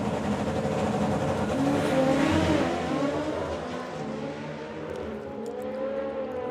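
A drag racing car makes a run at the Summer Nationals, engine roaring loudly as it accelerates and sweeps past, then fading to a lower rumble as the throttle rolls off, no voices.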